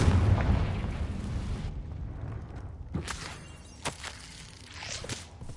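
A Confringo blasting spell goes off in Hogwarts Legacy, a low rumbling boom with a few sharp bursts and pops following, moderately loud with no talk.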